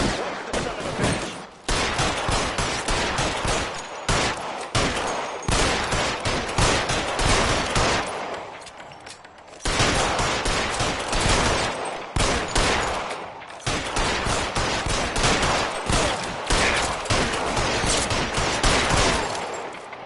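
Sustained video game gunfire, dense bursts of automatic shots and heavy volleys, loud and close, with rapid repeated cracks and only brief pauses over about twenty seconds.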